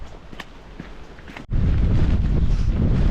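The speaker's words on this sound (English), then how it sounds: "Oh, it's windy already." Strong wind buffets the microphone on the Miners Track at Snowdon, starting lighter with faint scuffs before a sudden loud gust roars in and stays heavy to the end.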